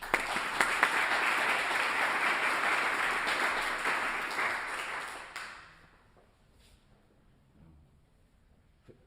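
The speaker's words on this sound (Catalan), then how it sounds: "Un aplaudiment per ell." Audience applause for the composer at a flute orchestra concert, a dense steady clapping that holds for about five seconds, then tapers off and fades into near silence with a few faint scattered sounds.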